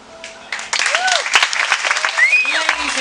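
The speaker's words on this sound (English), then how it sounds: "big round of applause for Eleanor" An audience applauds after Eleanor's talent show performance, with clapping swelling in partway through while a voice talks over it and bright, sweeping tones ring out above the crowd.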